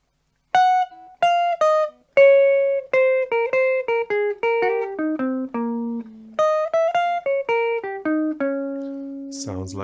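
A clean electric guitar plays a fast descending chromatic run of single picked notes, dropping steadily in pitch, then a second phrase, a 9 arpeggio rising and falling, from a guitar solo.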